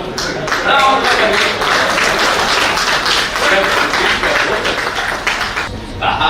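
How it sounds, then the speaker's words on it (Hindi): Teachers applaud at a political event in Bihar where the chief minister speaks, dense steady clapping from a large crowd lasting several seconds with voices mixed in underneath. "शिक्षक खुशी से ताली बजा रहे थे"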